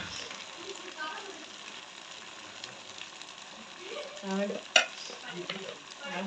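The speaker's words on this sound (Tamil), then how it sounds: "எல்லாத்தையும் போட்டு நல்லா மிக்ஸ் பண்ணிடுவோம்." Egg and vegetable noodles frying with chili powder in a pan, a faint sizzle under stirring and scraping, with a sharp utensil clack near the end.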